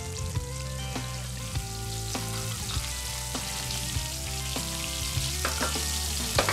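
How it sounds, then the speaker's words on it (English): Oysters frying in oil, a dense steady sizzle with scattered sharp pops, close and loud, with no one talking. "That popping, the oysters are cooking great."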